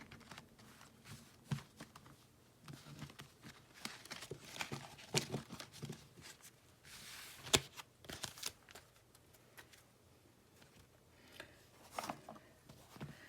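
Tarot cards are handled and set aside on a table, making soft intermittent shuffles, slides and light taps at close range, quiet, with scattered small knocks and no speech.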